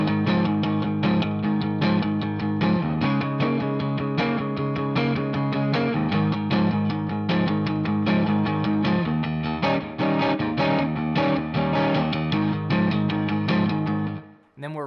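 An electric guitar plays the 8-bar chorus progression of a song, with a driven, slightly distorted tone and steady shuffling chords, loud and continuous with no talk.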